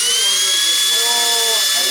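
A high-rev brushless motor in a Yokomo YD-2 SX3 RC drift car spins up, giving a loud, steady, piercing whine with a continuous high pitched tone that holds throughout.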